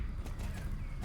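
Horse hooves clip-clop at a steady pace in the Star Stable riding game, a dense run of footfalls heard close over continuous background game ambience.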